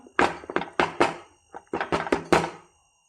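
A filled caramel apple pudding mould is tapped down on a surface, giving about nine dull thunks in two quick bursts with a short pause between, close and distinct with no talk.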